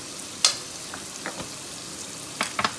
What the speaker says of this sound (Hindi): और मसाला भूनते जाएं। मसाला अच्छी तरह भूनें।